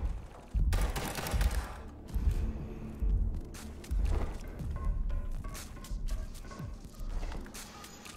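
Rapid bursts of gunfire from the video game Liberated crackle repeatedly, with short pauses between volleys and some heavier thuds mixed in.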